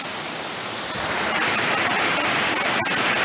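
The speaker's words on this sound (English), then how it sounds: "as you can hear, I have arrived at Anderson Falls" Anderson Falls on the Fall Fork of Clifty Creek in Indiana pours as a steady, broad rush of water that swells a little louder after the first second and then holds constant, with no voices.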